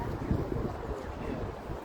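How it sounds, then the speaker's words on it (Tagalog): Strong wind on a hilltop buffets the microphone in a continuous low roar, gusting throughout with no clear voices. "Mahangin. Mahangin."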